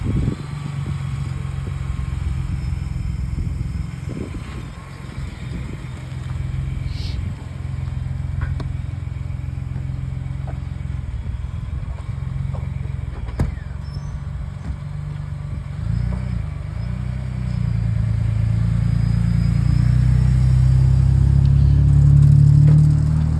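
A 4-eye Foxbody Mustang GT with flat tires is driven up onto a trailer, its engine a low steady rumble that swells louder toward the end, with people talking faintly over it.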